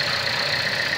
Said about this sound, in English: just a quick scan of the motor as it runs